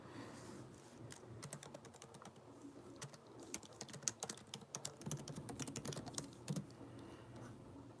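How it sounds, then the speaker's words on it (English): Fingers tap on a computer keyboard in a quiet room, with soft, irregular keystrokes that run in quick bursts and get busier and slightly louder toward the end, with no voice over them. "So right now I am typing on my computer."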